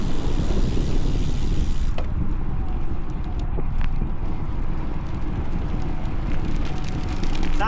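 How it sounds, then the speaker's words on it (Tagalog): Strong wind roars across a microphone on a motorcycle ride, a loud, constant rushing blast that never lets up, with faint mechanical ticks beneath it. "Grabe yung hangin."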